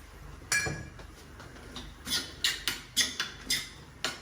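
Fresh black pepper ground in a hand mill, a series of small crisp clicking turns in a quick steady rhythm, close and fairly quiet, after one sharper knock at the start.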